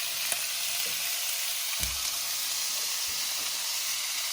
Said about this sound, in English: now I'm going to add my shrimp to the pan